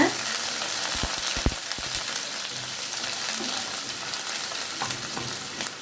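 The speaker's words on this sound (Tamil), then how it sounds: "வெங்காயம் சேர்த்து நல்லா மிக்ஸ் பண்ணி விட்டுருங்க" Onions sizzle steadily in a pan with cinnamon, cloves, bay leaf and curry leaves for a Kumbakonam kadappa, giving a close, constant frying hiss with a few soft stirring knocks near the start.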